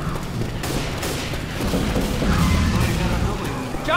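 Gunfire and explosive booms from the zombie shooter Left 4 Dead 2 during the Dark Carnival campaign, a dense, continuous barrage of shots with heavy low rumble throughout, with voices faintly mixed in the background.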